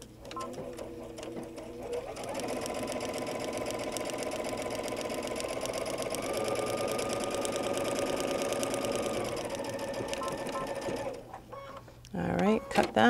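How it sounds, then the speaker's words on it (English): Sewing machine with an automatic presser foot stitching fabric for paper piecing: a steady, close mechanical whir runs for about nine seconds, then stops, and clicks and handling noises follow. "This machine is nice too because it does have an automatic foot presser."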